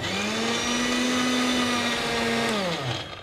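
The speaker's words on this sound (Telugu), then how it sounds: "జీడిపప్పు ఇది ఒక్కసారి ఫస్ట్ మిక్సీ చేసేసిన తర్వాత అప్పుడు పాలు యాడ్ చేద్దాం" A mixer grinder whirs as it blends cashew nuts in a TV cooking show kitchen, a loud steady motor whine that holds pitch for a few seconds, then dips and winds down near the end.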